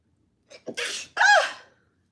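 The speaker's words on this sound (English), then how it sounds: "Do I have to sneeze again?" A single loud sneeze up close, preceded by a couple of quick, sharp intakes of breath.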